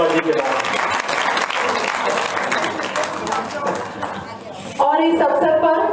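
An audience at a Hindi Diwas poetry gathering gives loud, sustained applause for the event host, the clapping thinning before a voice takes over near the end.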